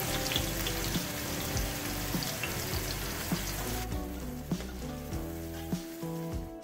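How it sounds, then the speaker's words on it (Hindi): Three medium chopped onions frying in hot oil for mutton haleem, a dense, loud, continuous sizzle that drops noticeably partway through and then crackles on more softly. "प्याज हमारे फ्राई हो रहे हैं।"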